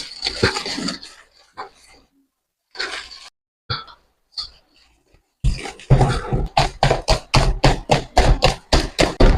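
A spoon or whisk scrapes and taps in a bowl while flour, skim milk, cocoa, baking powder and yeast are mixed for eggless chocolate bread dough, first in sparse bursts, then in a fast, loud, regular stirring rhythm.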